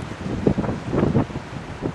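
Strong wind buffets the microphone on an open coastal spot at Delimara in spring, a continuous rough rumble with gusty swells, no voices.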